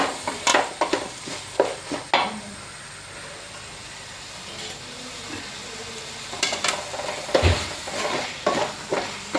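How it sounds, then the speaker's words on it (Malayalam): Chicken curry being stirred in a pan: a spoon scrapes and clinks against the metal in quick bursts of strokes at the start and again near the end, with a quieter simmering stretch in between. "നമുക്ക് ഒന്ന് ഇളക്കി കൊടുക്കാം നമ്മൾ ഇളക്കിയിട്ട്"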